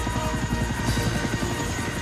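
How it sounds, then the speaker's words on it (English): A cartoon helicopter touches down gently in the snow at a Christmas party, giving a steady, pulsing rotor chop that holds at a constant loudness throughout, with no talk over it. "Harold the helicopter touched down gently in the snow"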